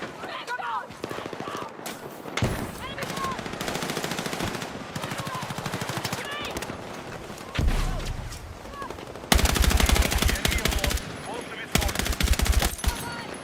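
Rapid automatic gunfire from a video game as a full magazine is emptied, loud repeated bursts broken by short gaps, with a voice speaking between the shots.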